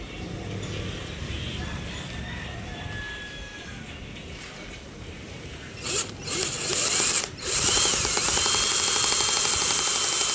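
Screws being driven into roofing sheets on a house roof nearing completion, heard as a ratcheting mechanical whir that grows louder and denser in the second half, with bursts of driver noise near and steady.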